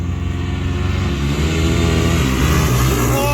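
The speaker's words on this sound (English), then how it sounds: "Tony pulling a wheelie off the line" An off-road vehicle launches hard off the line in a drag race, its engine revving loud and close in one continuous, rising roar with no pauses.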